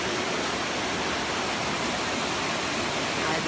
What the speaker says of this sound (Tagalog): Nandito na kami sa baba at ayun yung mini falls.